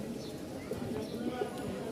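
Soft, faint cooing from Rajshahi flying pigeons rises through a noisy background over a couple of seconds.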